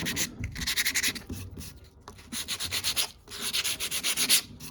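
Hand sanding roughens a panel on a Porsche 914 during restoration, close-up rhythmic back-and-forth scratchy strokes in quick repeated bursts with a brief pause in the middle.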